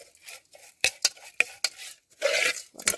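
A ladle scrapes and clacks against a pot during stir-frying in a simple outdoor meal, sharp scattered knocks and brief sizzling bursts, close and uneven.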